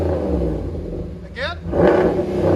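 A RAM 1500 pickup with a 5.7L HEMI V8 and a Flowmaster Outlaw exhaust, its stock muffler cut off, rumbles and revs close by in one deep surge. Voices talk over the engine.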